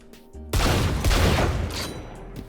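Loud, close gunfire from a new gun in Valorant: a heavy burst of shots with a booming, rumbling tail that fades slowly, preceded by quieter game sounds.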